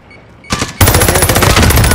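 A sharp video-game rifle shot cracks out, then a loud sustained burst of rapid gunfire follows close and continuous, with no voices present.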